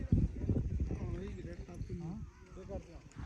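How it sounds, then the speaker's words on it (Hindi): Hooves clip-clop from a horse carrying a rider in Siri Paye, a loose run of close, uneven knocks under someone talking. "भाई गुस्सा कर रहा है घोड़ा"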